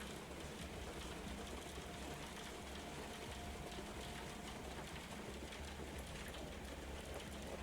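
Heavy, hail-like rain in the video game Tin Can, a dense, steady patter and hiss that runs unbroken and fairly faint throughout, with no voices.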